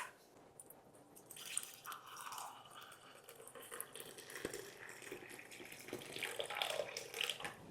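Kashmiri pink tea pours into cups in a continuous liquid trickle with faint splashing and occasional clinks, close and fairly quiet throughout.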